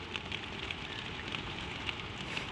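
Gentle spring rain patters softly and evenly on surfaces, a quiet continuous hiss with faint scattered drops, no voices.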